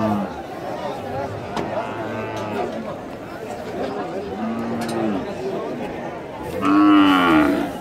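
Bulls at a cattle market low and moo repeatedly, close and fairly loud, while people talk and chatter nearby throughout.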